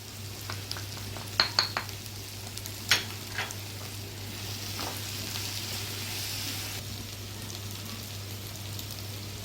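Minced meat frying in a pan with tomatoes and spices, a steady soft sizzle running throughout with a few sharp clicks and scrapes of stirring near the start.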